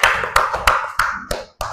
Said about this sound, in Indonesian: Untuk kelompok 1 beri tepuk tangan.